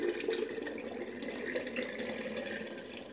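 Yeast trickling out of the bottom tap of a craft beer fermenter, a soft, steady liquid drizzle heard close up, low and even for a few seconds with no talking.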